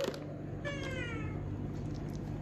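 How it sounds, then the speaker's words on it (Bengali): A cat gives one clear, drawn-out meow, close and fairly loud, over a steady low background hum; nothing else stands out and no one speaks. "দেখবে বন্ধুরা বিড়ালে চিপস খায় দেখেছো?"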